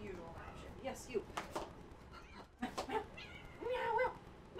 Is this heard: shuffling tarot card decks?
no